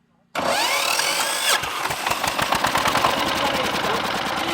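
A Mollik power tiller engine cranks with a sudden whirring start, then settles into a loud, rapid chugging idle close by, with no voices.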